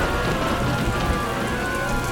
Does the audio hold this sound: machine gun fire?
no